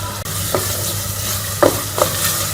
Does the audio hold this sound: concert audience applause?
no